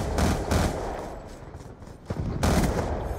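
Burst-fire weapon shots in Black Ops II on the Nuketown 2025 map: loud, close short bursts of rapid fire, one group at the start and another after a short lull, over continuous game noise.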